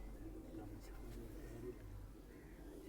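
Low cooing of an English breed pigeon kept among flying pigeons in Punjab, soft repeated throaty coos over a quiet murmur of background noise.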